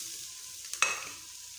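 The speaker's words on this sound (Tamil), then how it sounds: "வெங்காயம் வதங்கட்டு." Onions sauté in a pan with a steady soft sizzle, broken by one brief, sharper scrape of a spoon stirring them, close and moderately quiet with no talk.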